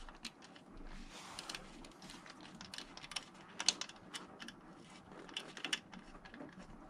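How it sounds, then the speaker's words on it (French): A wrench tightening the cylinder head bolts of a BMW K100 motorcycle engine, a quiet run of close ratcheting clicks and metallic ticks with uneven bursts of rapid clicking. "On va juste les serrer jusqu'au contact."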